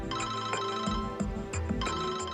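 A mobile phone ringtone plays a repeating electronic melody of bright chiming tones in a steady rhythm, moderately quiet and without voices.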